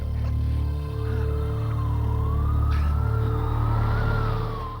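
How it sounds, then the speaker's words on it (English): A police siren wails in a steady rising and falling tone, growing louder as it approaches, over a low rumbling background in a movie scene, with no voices. "Then he hears police sirens coming, getting closer."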